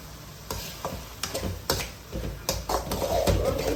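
Vada curry, a Chennai-style dish, being stirred in a pan after coriander leaves are sprinkled in, giving soft scraping strokes and gentle clinks at an irregular pace over a faint sizzle, with no talk.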